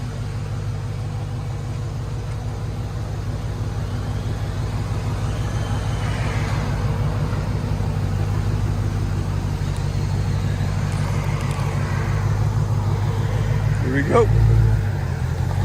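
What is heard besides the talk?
2016 Dodge Charger Hellcat 6.2L supercharged Hemi, Flowmaster dual exhaust revving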